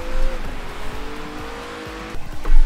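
Ginetta G55 GT4 race car in a racing game on snow at Zolder, engine droning steadily with tires squealing as it locks up and spins, ending in a louder surge.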